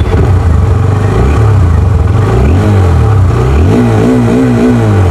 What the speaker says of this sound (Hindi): सबसे पहले एग्जॉस्ट में सुन लेते हैं